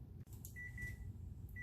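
A kitchen oven timer beeps while meatloaf meatballs bake: one sustained electronic tone, then a second beep beginning just as the clip ends, faint against a low room hum.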